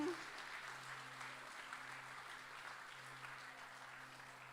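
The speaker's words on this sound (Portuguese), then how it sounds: "Aplauda o nome do Senhor Jesus." A church congregation applauds during a Portuguese-language service: faint, distant, even clapping that continues over a low steady hum.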